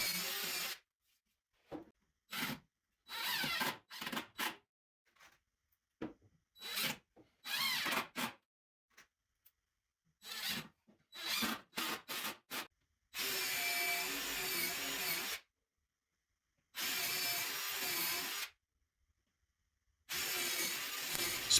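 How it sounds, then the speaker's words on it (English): Bursts of drilling and screw driving into wood while building a table saw spline jig, sharp on-off runs of a power tool separated by silences, ending in several longer sustained whirring passes. "I'm going to go ahead and drill out a couple holes and fill them with screws on both sides"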